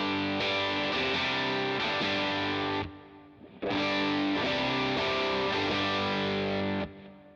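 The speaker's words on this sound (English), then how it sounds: "I'm just going to do a simple reverb" An electric guitar through a Line 6 Pod Go with simple reverb rings out in two sustained, slightly gritty strummed chords, each decaying into a reverb tail before the next begins, loud and close.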